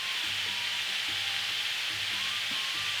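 Beef and vegetables sizzle in hot olive oil in a pan, a steady close crackling hiss that holds evenly throughout with faint low hum beneath and no voices.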